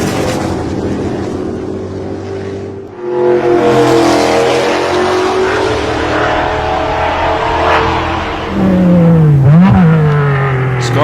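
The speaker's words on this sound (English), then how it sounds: "Foamer enveloped in a deafening blast from Hall's Chevy, diving inside for the pass." Can-Am race cars at the 1967 Chevron Grand Prix, including a Chevy-powered car, roaring past loud and close, engines rising and falling through gear changes with a sharp pitch sweep near the end.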